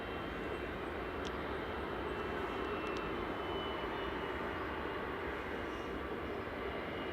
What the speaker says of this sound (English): This is Jet2 Flight 899, operated by GAZHD, an 18-year-old 737-800.